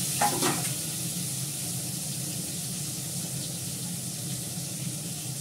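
Onions dropped into hot oil in a pan with black cumin seeds, giving a brief loud burst of sizzling that settles into a steady, close frying hiss.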